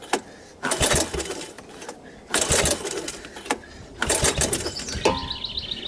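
Long-abandoned Suzuki ATV engine cranked repeatedly, several loud bursts of whirring starter churn separated by pauses, without catching.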